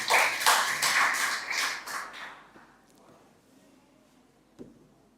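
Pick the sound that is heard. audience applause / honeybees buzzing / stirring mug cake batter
audience applause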